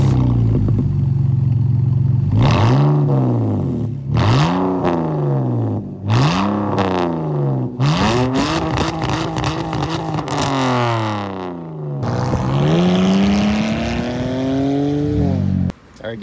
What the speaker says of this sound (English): where it's so raspy at high RPMs because of the blast pipes being like true dual from the rear tire back